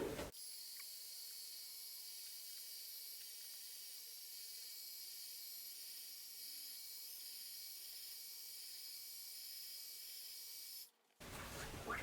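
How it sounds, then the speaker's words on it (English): A heat gun blows a steady, even hiss while warming the tops of wax melts made with Golden Wax 494, holding for about eleven seconds before cutting off abruptly, close and moderately loud with no voices. "To do that, we're just going to take our heat gun."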